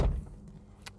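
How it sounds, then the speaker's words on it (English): An Austin Ambassador or Princess car door shuts with a single short, heavy thud at the start, followed by a faint click and quiet settling. "not the most quality sound when you close the door. It's a bit of a bang"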